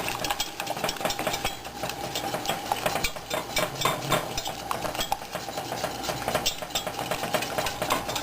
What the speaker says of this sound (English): Using one of these wire whisks,